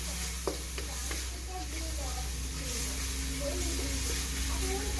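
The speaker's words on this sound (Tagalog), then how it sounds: "Isahin lang natin itong bawang luya sibuyas." Garlic, ginger and onion sauté in a pan with a soft, steady sizzle and occasional scraping stirs, close by, while someone talks over the cooking throughout.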